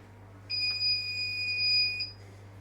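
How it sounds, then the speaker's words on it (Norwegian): A Grainfather G30 all-grain brewing system gives a single steady electronic beep lasting about a second and a half on reaching 68 degrees mash temperature, clear over a low background hum. "Og der kom pipet, og det betyr at nå er den varmet opp til 68 grader"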